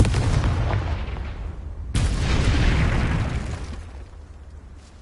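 A Confringo fire spell blast in a Hogwarts video game: two heavy booming explosions a couple of seconds apart, the second swelling and then rumbling away into a fading tail, loud and near, with no voices.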